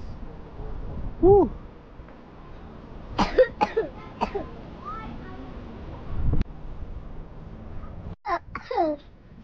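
A child gives short bursts of coughing in cold wind near the summit of Mount Eden in Auckland, with a few sharp coughs clustered mid-way over a low windy rumble, alongside faint babbling voices.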